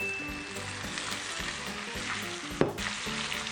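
Shrimp frying in a hot pan gives a steady, dense sizzle, with a single sharp clunk partway through and no voices.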